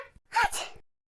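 A girl drenched in heavy rain lets out a single sneeze up close, a quick inhaled catch followed by a loud explosive burst that fades out, alone without speech.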